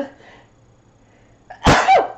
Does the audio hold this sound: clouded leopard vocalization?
no